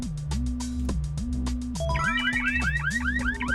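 A warbling, car-alarm-like electronic siren from the video game Bomberman Hero cycles through rising and falling sweeps in a steady repeating loop, loud and continuous with no talking.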